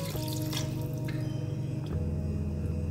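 About one and a half glasses of water pour steadily into a wok of half a kilo of boneless chicken, a continuous close splashing and trickling with no talk over it.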